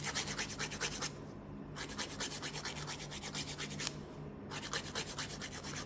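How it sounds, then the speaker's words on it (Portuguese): A nail file rasps across a client's nails in rapid, rhythmic back-and-forth strokes, close and fairly quiet, with two brief pauses between bursts and no talking. "pega a lixa, já vai lixando"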